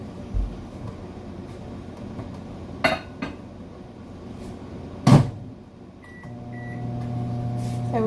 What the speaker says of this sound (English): We're going to put it in the microwave.